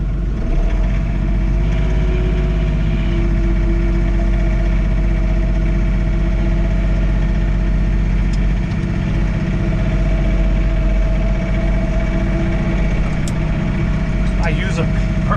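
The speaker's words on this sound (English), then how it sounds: "Okay, we're back on the tractor." A John Deere 3046R tractor engine idles steadily, a constant low rumble that stays loud and unchanging throughout.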